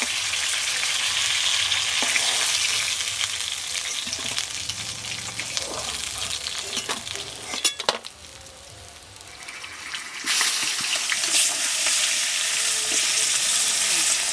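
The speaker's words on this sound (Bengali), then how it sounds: "এগুলো কুচিয়ে কুচিয়ে ভাজবো মাছের তেল দিয়ে" Chopped homegrown eggplant and potato fry in fish oil, with a loud, dense sizzle and stirring clatter throughout, a brief dip in the middle, then a return to full crackling.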